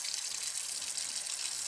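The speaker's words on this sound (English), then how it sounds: "We're going to fill the pot up about 3/4 of the way with water." Tap water runs steadily into a large pot, making a close, continuous gushing rush with no talk.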